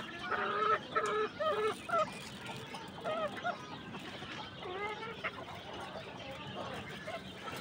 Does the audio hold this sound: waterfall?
no